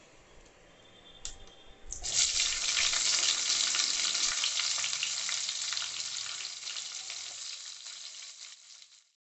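Chopped onion tipped into hot oil already seasoned with bay leaves and whole cumin, a sudden loud sizzle that bursts up after a couple of faint clicks, then holds steady and fades out near the end.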